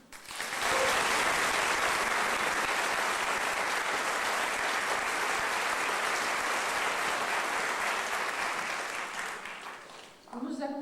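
An audience at an amateur theatre awards ceremony in Wallonia breaks into sustained applause, dense clapping that starts abruptly, holds steady for about nine seconds, then tapers off as a voice begins.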